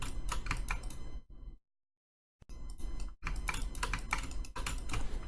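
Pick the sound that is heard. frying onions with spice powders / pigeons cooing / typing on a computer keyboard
typing on a computer keyboard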